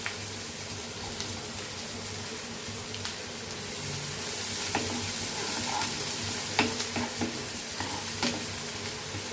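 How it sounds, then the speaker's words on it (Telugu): Green chillies and onions frying in a pan with a steady, fairly loud sizzle throughout, broken by occasional sharp crackles and stirring clicks close by. "పచ్చిమిరకాయలు వేగితే చాలా బాగుంటాయి ఉల్లిపాయలు వేసేద్దాం"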